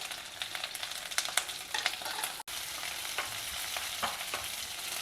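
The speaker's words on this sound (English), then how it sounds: "Stir fry all these together." Green chilies, ginger, sliced onions and curry leaves stir-fried in hot oil: a close, continuous crackling sizzle with quick scraping stirs and small clicks, steady and unbroken apart from one brief dropout.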